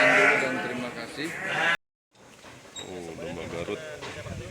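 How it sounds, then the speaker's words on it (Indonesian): Garut sheep on a fattening farm bleat loudly at close range, with wavering calls before and after a brief silent gap and a voice in the background. "Domba Garut."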